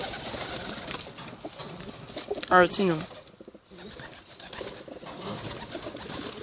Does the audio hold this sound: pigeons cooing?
yes